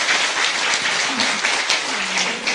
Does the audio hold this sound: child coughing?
no